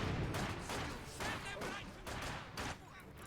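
Rapid bursts of PPSh submachine gun fire from partisans in a competitive multiplayer war video game, dense overlapping volleys with short gaps, loud and near, mixed with other battlefield gunfire and a commentator talking over it.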